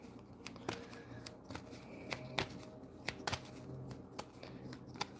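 Tarot cards being shuffled give soft irregular riffling and sharp clicks and snaps, close and fairly quiet, with no talking.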